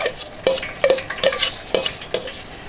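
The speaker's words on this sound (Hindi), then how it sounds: "अब इसमें 200 ग्राम प्याज" Chopped onions going into hot ghee in a large pot for deggi chicken biryani, giving a steady sizzle with several sharp bursts of frying as pieces are stirred and dropped in, close and fairly loud with no talking.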